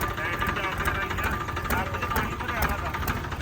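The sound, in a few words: tractor engine running, Escort 335 or Farmtrac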